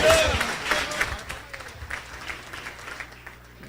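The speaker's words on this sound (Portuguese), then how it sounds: "E a igreja aplaude o Senhor." A church congregation applauds during a service, a short burst of clapping that fades to scattered claps, with a voice speaking over it.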